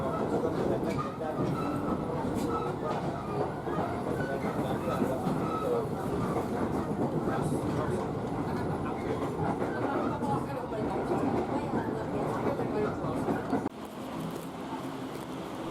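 Interior of a KRL commuter train heading toward Rangkas Bitung station, with a continuous rumbling rolling drone and faint rail clatter under steady passenger chatter.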